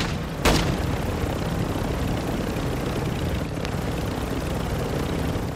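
Gunfire in Call of Duty Warzone 2: one sharp, loud shot early on, then a fainter distant crack, both over a constant low droning background.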